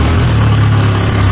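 A turbo diesel trike engine running with no exhaust fitted, a loud, close, raw droning rumble held steady for a moment before cutting off abruptly.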